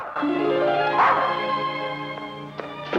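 A small dog in a film yaps and barks, a few short high-pitched yips with a whimpering, tonal quality, close and clear against a quiet background.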